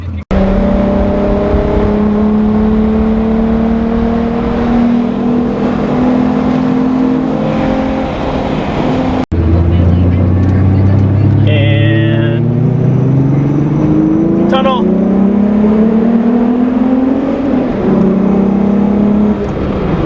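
A car engine drones loudly, then after a sudden cut roars up in a long rising rev, close and powerful, with faint voices and small sounds in the background.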